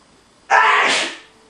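One sharp, close sneeze bursts out of near silence, a loud breathy blast that tapers off after a moment.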